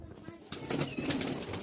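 A pair of red Giribaz tumbler pigeons at a pigeon market in Rajshahi coo in soft, low repeated calls, close by under a busy room murmur.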